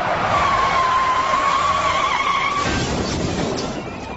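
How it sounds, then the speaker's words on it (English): A heavy car skids while fleeing a police chase, fishtailing left and right before crashing: a loud, sustained tire squeal holds for about two and a half seconds over engine roar, then gives way to rough rumbling noise. "He started to lose it, went to the left, went back to the right, skidded, and hit a fence and a tree"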